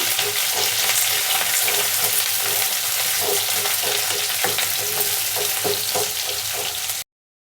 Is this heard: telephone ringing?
no